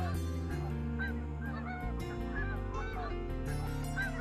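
A flock of big birds, geese honking, glides down to land in Kansas, cupped wings strumming air; dense overlapping honks and calls near and far, continuous throughout with no talking.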